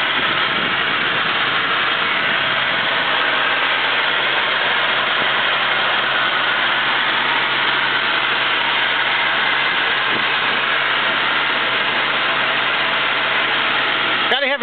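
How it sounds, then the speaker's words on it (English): A 1941 Lincoln Continental coupe with a 292 cubic inch V12 engine idles in a loud, steady, unbroken rumble from start to finish, close by and with no talking. "292 cubic inch V12 engine."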